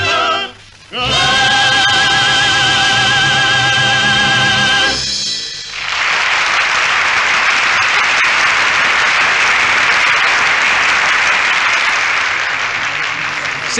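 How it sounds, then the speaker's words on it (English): A theatre audience applauds after a musical comedy, loud and sustained, with a swelling wash of clapping that follows the end of a vocal number and carries on for about eight seconds. "Six curtains, a mountain of bouquets, sustained applause, and then it's all over."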